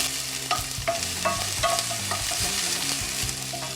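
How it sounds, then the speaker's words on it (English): Sliced white onions sizzle and crackle loudly in a hot pan, with steady frying hiss and the knocks and scrapes of stirring throughout, and no voices. "we just want these to start sauteing a bit"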